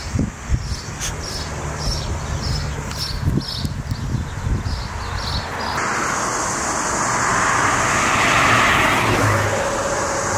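Highway traffic on a quiet road in Iran, a steady broadband roar of tires and passing cars with wind noise, growing louder and smoother in the second half, with no talk.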